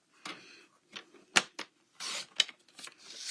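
Card stock being cut with a paper trimmer, heard as several short, sharp rasping strokes and scrapes separated by brief pauses, close and quiet.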